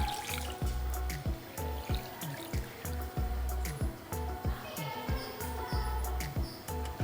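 Water poured from a vessel into soaked basmati rice for mixed vegetable biryani, a close sequence of rhythmic splashes and glugs repeating steadily for several seconds, with no talk.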